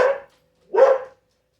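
A dog gives two sharp, close barks, separated by a short pause, with silence in between and after.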